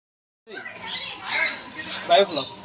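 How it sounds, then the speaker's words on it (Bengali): Guinea fowl calling at a farm, with harsh, close squawks rising after a short silence and repeating in uneven bursts. "এটি তিতির মুরগ তো এখানে এক পেয়ার তিতির ছিল"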